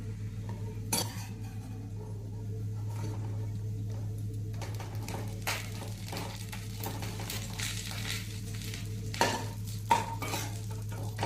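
Carrot and capsicum stir-frying in oil, a low sizzle under a steady hum, with a spatula scraping and occasional clinks against the pan, close but fairly quiet.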